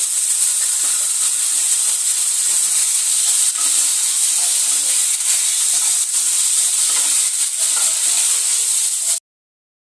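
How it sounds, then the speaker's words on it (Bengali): Small chicken pieces hit a hot pan with fried onions, setting off a steady, loud sizzle and hiss that runs unbroken for several seconds before cutting off abruptly. "এবার এই যে আগেই ধুয়ে রেখেছিলাম ছোটো ছোটো পিস করে, এই চিকেনগুলোকেও দিয়ে দেবো।"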